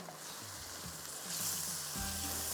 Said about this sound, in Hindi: ये पूरा पहले इसका मसाला भुनेगा